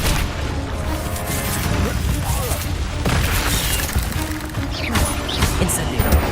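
An Incendio fire spell in Hogwarts Legacy bursts in a series of whooshing, crackling blasts and thuds as spiders are fought near a bridge, loud and busy throughout.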